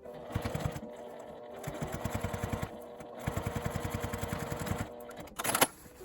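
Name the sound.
sewing machine stitching a pouch opening closed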